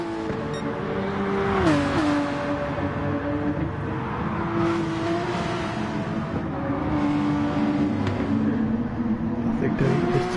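Race car engines in GT Sport, GT2 class at Lago Maggiore East, drone steadily with rising and falling pitch as cars shift and run down the straight, a continuous near roar under a commentator's talk.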